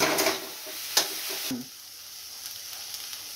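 Onion and red and green chillies fry in oil in a pan for a mixed vegetable dish, a steady close sizzle with a few stirring clinks and scrapes, easing slightly after the first moments.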